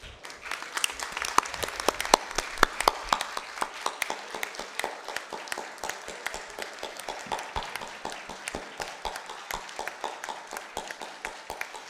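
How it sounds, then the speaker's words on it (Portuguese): A minute of applause in tribute during a council session, a sustained round of clapping from a modest group in a room, sparse at first and then steady, with distinct crisp individual claps. "ao contrário de um minuto de silêncio, será um minuto de palmas."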